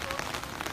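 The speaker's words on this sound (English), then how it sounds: "Can't believe how much it's raining today" Heavy rain falling steadily during an outdoor real estate auction in Ferntree Gully, Melbourne, a dense continuous hiss across the whole moment with no other distinct sounds standing out.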